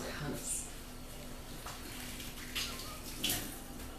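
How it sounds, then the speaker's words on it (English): Hands are rinsed under a running tap during kitchen cleaning, with steady water flow and a few splashy bursts as the hands move, while someone talks over it. "Hang on a second, let me rinse my hands."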